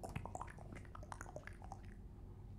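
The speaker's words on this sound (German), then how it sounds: "Ein Glas mit Wasser zu füllen und mit dem Strohhalm ein bisschen zu sprudeln" Water bubbling in a glass as air is blown through a drinking straw, a faint, rapid run of small bubbly pops and drips that thins out toward the end, heard alone without talk.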